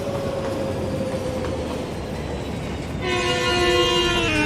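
A video-game train speeding along a scenic route, a steady rolling rumble with a tonal whine, joined partway by a loud layered horn-like chord that holds to the end.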